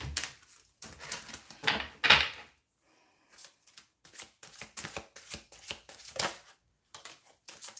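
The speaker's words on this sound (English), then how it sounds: "One more shuffle." Quick bursts of crisp riffling and flapping as tarot cards are shuffled up close, several rounds separated by short pauses.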